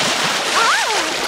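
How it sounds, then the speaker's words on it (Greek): Cartoon water splashing as a family of pigs plays in the sea at the beach, a continuous bright spray with a swooping whistle-like tone midway, fairly loud throughout. "Αρκετά με τα πλατσουρίσματα."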